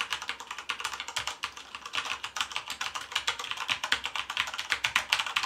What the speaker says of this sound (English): I'll try and let you guys listen in on the keys.